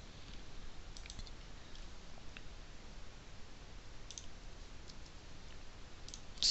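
Computer mouse clicks while navigating a web page, a few sharp, isolated clicks spaced apart over a quiet background hiss, with no one talking.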